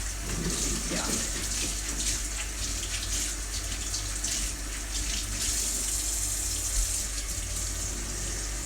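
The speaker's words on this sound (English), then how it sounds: "I'm going to clean that water out and get some more clean dishwater put in there" Tap water runs steadily into a kitchen sink, refilling it with fresh dishwater, a constant close gushing hiss that carries through the whole stretch with faint talk in the background.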